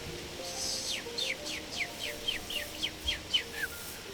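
A person whistles a quiet series of about ten short, downward-sliding chirps, imitating birdsong in a steady rhythm over soft background hiss.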